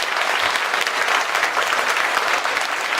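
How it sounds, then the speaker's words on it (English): An audience at a lecture claps steadily, a dense wash of applause that holds at an even volume throughout. "could you please join me to give another big round of applause"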